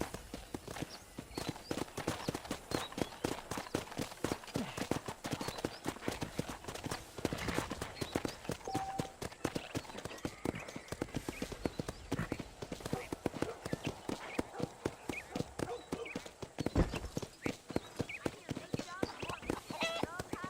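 Steady clip-clop of horse hooves at a trot in Red Dead Redemption, close and continuous, with a brief whinny and some background sounds mixed in.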